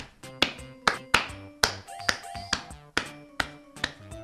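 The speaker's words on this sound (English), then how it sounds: "When you clap your hands," Sharp hand claps repeat in a steady rhythm, about two each second, over about four seconds, bright and close, with a short pitched ring after some of them.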